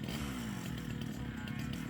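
A chainsaw cuts through a Central Texas live oak log for milling, running with a steady, loud engine drone that holds its pitch for the full stretch.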